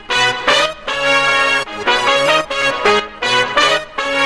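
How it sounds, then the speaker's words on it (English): Compressed lead synths and horns from a dance music drop play loud and punchy, stabbing in a repeating rhythmic pattern of bright chords with short gaps between hits. "all of the leads and the horns together sound something like this"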